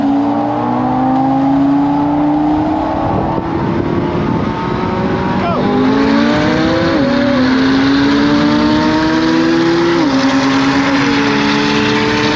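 A race car, a Porsche Turbo S that is likely modified, accelerates hard from the start line, loud and close, its rising engine pitch stepping up through several gear shifts with brief drops between them.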